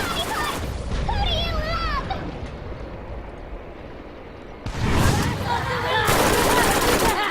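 Rapid gunfire in the video game Borderlands, in the Underdome arena with the character Lilith, bursts of fast shots and explosions mixed with a person talking over the game.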